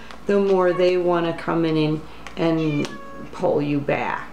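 A house cat meowing repeatedly and loudly close by, a series of drawn-out meows over and between a woman's speech.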